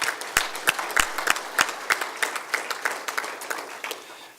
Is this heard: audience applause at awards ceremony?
yes